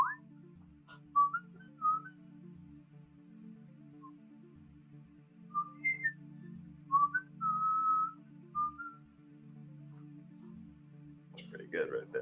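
A man whistles the Spartacus theme melody alone, clear sustained notes in short phrases with pauses between, close and fairly quiet over a low steady hum, with a brief noise at the end.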